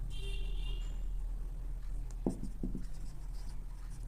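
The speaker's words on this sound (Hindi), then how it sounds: "लिख देते हैं" Pen or marker writing during an advanced calculus lecture: a few quick, quiet scratching strokes in the middle of the clip over a steady low room hum, with no talking.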